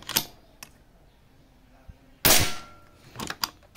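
A PCP air rifle lets off one loud, sharp crack up close, framed by a few lighter metallic clicks of the bolt before and after.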